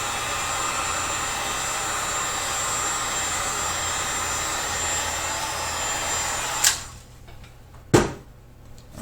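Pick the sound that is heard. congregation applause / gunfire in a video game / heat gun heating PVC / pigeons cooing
heat gun heating PVC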